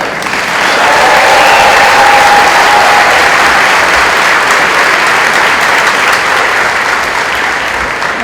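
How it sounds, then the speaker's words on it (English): Parents applaud loudly at a college convocation for new students, sustained and steady clapping from a large crowd in a hall that carries on without a break. "Parents, I want to hear a lot of applause from you."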